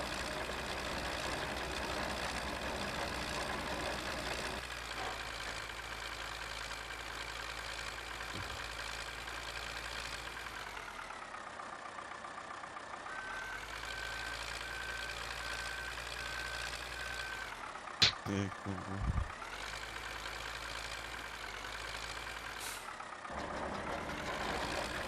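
Tractor engine idling in Farming Simulator 15, a steady low rumble running throughout with a slight shift in pitch midway and a couple of brief clunks near the end.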